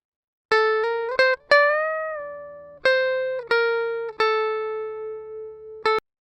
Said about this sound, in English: the Fender Strat is on the bridge pickup, so it's that super twangy, super kind of thin setting